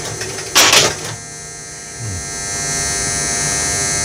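A Gottlieb pinball machine's score motor runs with a steady mechanical whir and hum, preceded by a sharp burst of relay clatter, the motor drone building and holding to the end.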